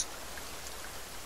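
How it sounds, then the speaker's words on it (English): Rain falls steadily in the survival game The Forest, a soft, even hiss of drops with no other sound, low and continuous for a short stretch. "I'm glad it's raining, though, because I really need some water."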